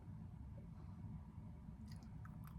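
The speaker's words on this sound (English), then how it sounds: "Crunchy as all heck." Crunchy salty snack of baked cottage cheese being chewed up close, a quiet steady crunching with a few sharper bites near the end.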